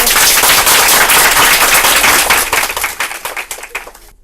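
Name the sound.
audience applause on a French TV game show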